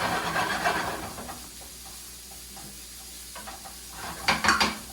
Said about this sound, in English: I'm going to go ahead and saute it with some garlic and ginger